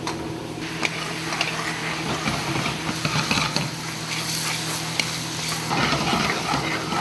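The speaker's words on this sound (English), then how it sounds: "We're just going to hold it on that flame until we get a light simmer, and we're going to let it simmer for a moment." Coconut rum shrimp simmer in a pan over an open flame, a close, steady soft sizzle and bubbling with scattered small ticks and pops throughout.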